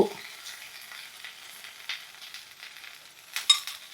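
Ivy gourd pieces fry in a pan for pickle, a soft steady sizzle with faint stirring scrapes and a brief louder crackle near the end, no voices.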